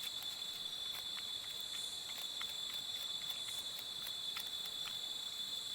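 A cicada buzzing in an Australian rainforest: a steady, thin, high-pitched drone that carries on without a break, faint and even, with no voices.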